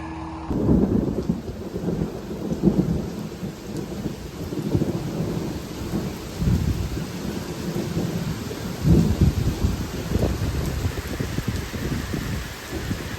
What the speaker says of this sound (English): it's starting to lighten and thunder a good bit